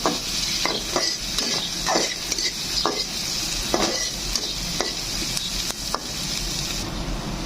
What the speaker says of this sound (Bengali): এখন দিয়ে দিব পেঁয়াজ কুচি এখন পেঁয়াজটাকে হালকা ব্রাউন কালার করে ভেজে নেব